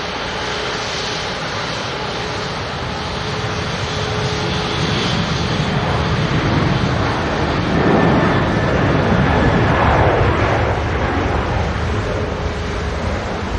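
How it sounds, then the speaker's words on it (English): A Singapore Airlines Airbus A350-900 taxis out at Manchester Airport, its engines giving a steady, loud broadband roar that swells slightly midway and holds without pause. "A350-900 on the taxi out."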